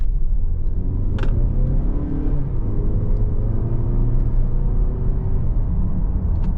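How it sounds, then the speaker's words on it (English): A 2025 Mazda 3 hatchback with a manual gearbox slows down and shifts into lower gears, giving a steady low engine rumble and road drone heard from inside the cabin, with small shifts in pitch and a brief click, and no talking. "We'll slow down, go down in gears a little bit."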